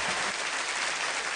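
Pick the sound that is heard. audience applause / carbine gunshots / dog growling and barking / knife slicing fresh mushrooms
audience applause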